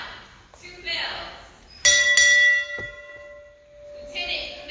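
A ship's bell is struck twice in quick succession at a naval retirement ceremony, two bright ringing strikes that decay slowly, set between spoken announcements.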